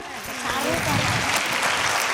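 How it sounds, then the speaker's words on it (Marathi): A seated audience at a Marathi women's cultural program of grinding-song verses breaks into continuous applause, with a voice audible over the clapping throughout. "सो एकदा माझ्या आईसाठी टाळ्या वाजवणार का?"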